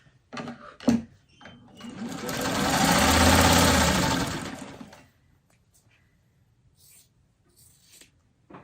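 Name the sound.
sewing machine stitching fabric corner to corner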